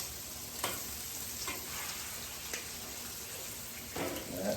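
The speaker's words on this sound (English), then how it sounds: "Now that bacon cooks quick." Bacon frying on an outdoor grill, a steady soft sizzle and crackle at low level with a few brief pops and scrapes, heard alone without talk.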